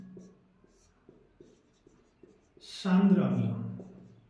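A marker or chalk writing a word on a classroom board, a run of short rhythmic taps and strokes, followed by a teacher speaking.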